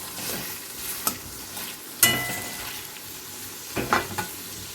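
Chopped onions fry in a pan over a medium-low gas flame, giving a steady close sizzle broken by sharp scraping stir strokes at about three moments.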